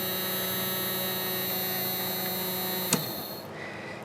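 Small Snap Circuits toy motor running in a 6-volt circuit, a steady close whirring hum with constant tonal lines that cuts off sharply with a click near the end, leaving quieter residual noise.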